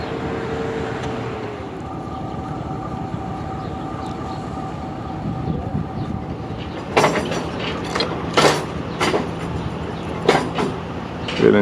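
Diesel locomotive at Dozan railway station in Balochistan braking to a stop, a steady low engine drone with faint tones, then a series of sharp hissing air-brake bursts and clanks near the end.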